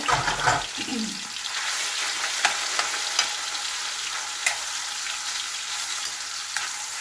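Marinated pork dropped into hot oil, a loud burst at first settling into a steady, close hiss of frying with occasional pops and crackles.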